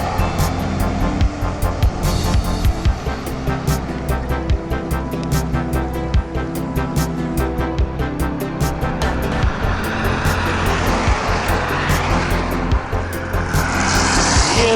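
A car passing on a road on the outskirts of Krasnoyarsk, heard from a moving bicycle: a steady loud roar of engine and tires over wind buffeting, with a hiss of passing traffic rising near the end and no voices.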